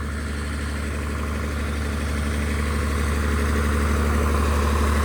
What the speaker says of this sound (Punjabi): ਬਹੁਤ ਪੁਰਾਣਾ ਜਨਰੇਟਰ ਇਹ ਬਣਾਇਆ ਸਾਡੇ ਸਾਡੇ ਕੋਲ